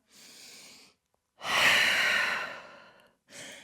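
Deep breathing in a downward-dog yoga pose: a soft airy breath, a pause, then a long loud exhale that fades, followed by the start of another breath, close and clear with no talking.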